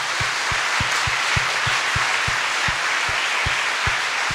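Church audience at a Christian life seminar applauding a guest, a steady dense wash of clapping filling the room, loud and continuous with no talk, with faint regular low thumps running beneath it.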